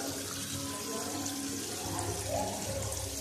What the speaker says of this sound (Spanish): Y la cascada está muy bonita.